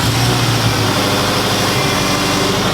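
A rally project car's engine runs steadily just after a head gasket repair, a loud close rough idle with a heavy low rumble and constant vibration, no voices.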